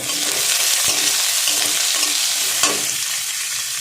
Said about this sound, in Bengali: পেঁয়াজ কুচিটা 2 মিনিট ভেজে নেব